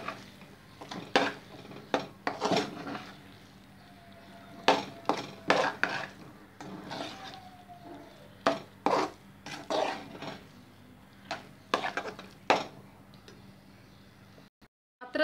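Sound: continuously stirring orappam mixture in a pan

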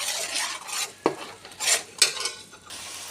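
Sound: tomato paste and ginger garlic paste gravy being fried and stirred

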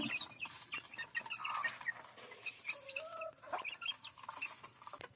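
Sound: rooster

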